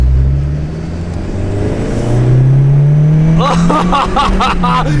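A boosted BMW E36 accelerates hard in third gear, its engine note rising steadily and loud from inside the car, with voices shouting over the revving toward the end.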